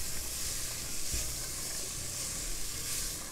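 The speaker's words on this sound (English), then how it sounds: "And we are going to caramelize these onions." Onions caramelizing in a pan for shepherd's pie give off a steady, close sizzle with a soft frying hiss throughout and no pauses.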